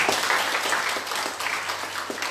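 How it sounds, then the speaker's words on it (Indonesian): Congregation applause at an Indonesian church service, a steady wash of many hands clapping at moderate volume, softening slightly toward the end, with a low electrical hum beneath. "Tepuk tangan untuk Tuhan."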